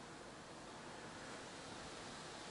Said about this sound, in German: hier hört man es deutlicher mit dem Rauschen und der Wind ist auch ordentlich. Aber es regnet auch leicht.